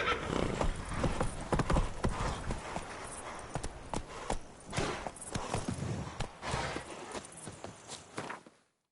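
Horse hooves clip-clop at a gallop in The Witcher 3: Blood and Wine, a steady rapid rhythm with occasional whinnies, close and fairly loud, with faint game sounds underneath.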